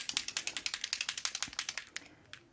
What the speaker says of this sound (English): Make sure you shake it before you use it.